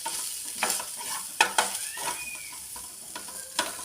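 Turmeric, red chili, coriander powder and egg masala sizzle in a hot pan, a steady frying hiss broken by sharp scrapes and clinks of a stirring spoon, close and clear with no voices.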